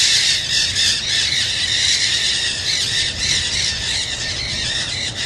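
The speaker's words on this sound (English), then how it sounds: "oh, listen to the parrots." A flock of parrots squawks loudly as it flies past overhead, harsh shrill calls overlapping in a dense, continuous chorus that stays strong for the whole stretch.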